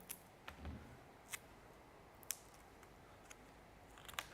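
Scissors trimming a paper craft template, a few quiet, sharp snips spaced irregularly, with a soft thump near the start and a quick cluster of cuts at the end, close and faint against a hushed room.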